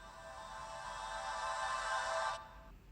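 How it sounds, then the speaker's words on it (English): Reversed vocal or melody effect for a dancefloor drum and bass track, a steady tonal swell that builds over about two seconds and then cuts off abruptly, playing alone. "It's like a vocal reverse or some melody reverse or something like that"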